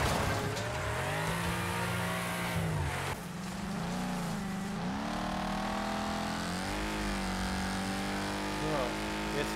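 A car engine in Wreckfest revs and climbs through gears with rising and falling pitch sweeps, loud and continuous, while someone talks over it.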